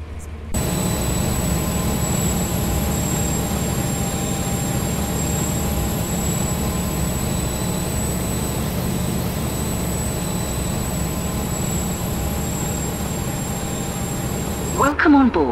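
Steady low rumble and drone of a Class 43 HST diesel engine in a train-driving video game, with faint high tones held throughout at a constant level before a brief change at the very end.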